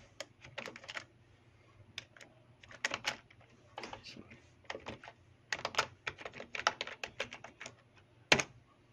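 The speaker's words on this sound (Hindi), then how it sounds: "मैं ईमेल एड्रेस लिखता हूँ यहाँ पे मैं पासवर्ड लिखता हूँ अपना" Quick bursts of keystrokes on a computer keyboard as an email address and password are entered, clustered taps with short pauses, close and fairly quiet, with a louder final key press near the end.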